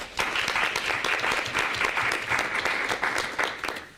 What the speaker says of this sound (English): we want to give them a round of applause as well